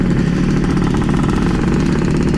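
The engine of a 2002 Yamaha F1ZR motorcycle with a slipping clutch runs at a steady, loud, even drone for the entire stretch, with no voices.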